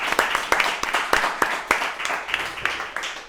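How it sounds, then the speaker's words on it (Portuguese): Studio audience clapping in welcome as a Portuguese breakfast talk show opens, a steady patter of hands with sharper individual claps standing out, moderately close and sustained throughout. "Uma salva de palmas!"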